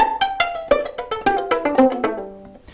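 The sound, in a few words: violin left-hand pizzicato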